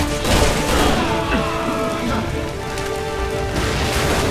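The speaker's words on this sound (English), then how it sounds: "I couldn't hear you over all the explosions." Explosions and gunfire in Resident Evil 6 during a co-op hostage rescue mission: a dense, continuous barrage of blasts and crackling shots, loud and close throughout, with faint game voices under the din.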